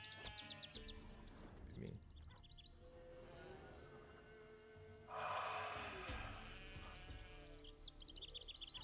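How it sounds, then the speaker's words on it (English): Sheep bleat in Witcher 3: Wild Hunt, several wavering calls from a small flock at a middle distance over a low game ambience, with a louder breathy burst partway through. "Look at them sheep."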